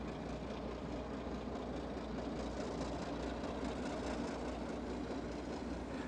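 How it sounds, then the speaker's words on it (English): The Skunk Train rolls through coastal woods out of Fort Bragg, a steady low rumble of railcars and wheels on track, faint and continuous throughout. "Also still running today is the famous skunk train, which leaves Fort Bragg and takes passengers on shaded rides through the woods"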